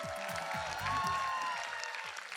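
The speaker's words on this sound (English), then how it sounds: "Give them a huge round of applause," Audience applause rolls through a wedding celebration hall, moderately distant and steady, under booming music beats and a rising tone, fading slightly toward the end.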